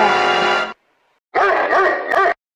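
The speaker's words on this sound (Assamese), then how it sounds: "কুকুৰে খেদিছে" Cartoon dog barking in an Assamese comedy cartoon, two loud bursts of barking and yelping separated by a short silence, alone without talk.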